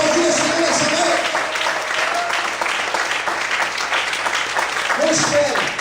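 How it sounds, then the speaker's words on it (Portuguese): A church congregation applauds in steady, full clapping while a voice carries on over it and faint tones rise and fall in the background. "Será que você pode aplaudir o Senhor nessa noite?"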